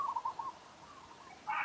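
Doves call from just outside a lanai, a run of soft, low repeated coos at a steady rhythm, fairly faint and distant, with a brighter burst of other bird chirping near the end.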